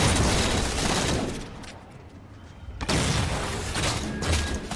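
Grenade explosions and gunfire in a Halo 4 multiplayer match, a dense run of loud blasts and shots that drops away briefly before another burst of heavy explosive noise.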